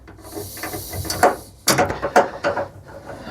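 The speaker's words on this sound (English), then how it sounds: "Might as well just put those bolts in just for the sheer hell of it." Ratchet driving bolts while fitting Classic Mini bucket seats, with quick clicking strokes in short runs and a few sharp knocks, close and fairly loud, no talking.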